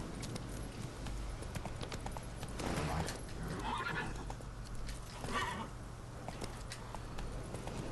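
Hoofbeats of a galloping horse in The Witcher 3: Wild Hunt clip-clop rhythmically under a quiet background, with a horse whinnying briefly, all faint and game-like.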